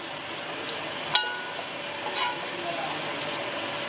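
Chopped onions soften in a pan for a fried karela and chana dal dish, with a soft, steady sizzle, a couple of brief clinks or stirs, and faint talk in the background.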